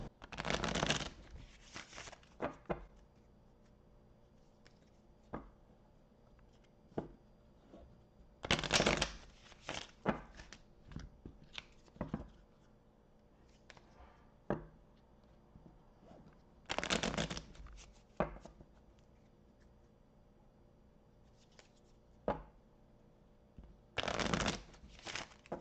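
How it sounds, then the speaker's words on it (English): Tarot cards being shuffled by hand, with repeated bursts of riffling and bridging separated by quieter handling and soft card taps, close and alone without talk. "I'm going to have to shuffle"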